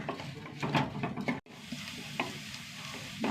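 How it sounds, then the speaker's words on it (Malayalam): Onion sautés in hot coconut oil with a close, crackling sizzle and bursts of stirring, briefly dropping out once before the frying resumes. "സവാള ഒന്ന് നന്നായി വഴറ്റിയെടുക്കാം."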